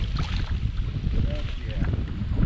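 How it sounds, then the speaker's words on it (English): Strong wind sweeps across open water during kayak bass fishing, a continuous rough, rumbling buffet on the microphone with faint lapping underneath and no clear talking. "it is super windy as you can tell"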